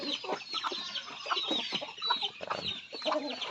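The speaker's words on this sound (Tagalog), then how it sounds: "ito muna yung update sa ating mga alaga ni Chicken" Backyard chickens clucking continuously up close, a busy overlapping chatter of short clucks and squawks from several birds.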